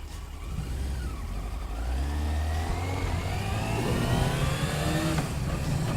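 A 1996 Yamaha YZF600 sports bike engine revs up, its whine climbing steadily in pitch and loudness over a few seconds before easing slightly, heard close and alone.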